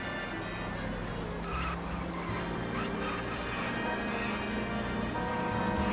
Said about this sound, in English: All I can just hear is this crashing behind me